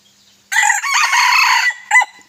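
A young rooster, a Thai decoy chicken six to seven months old, crows loudly and close by. One long, bright crow breaks into a short final note, with silence before and after.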